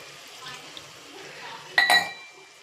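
Water from a glass poured into a pan of half-cooked chicken curry, a short splash of liquid with a light clink over a quiet kitchen background.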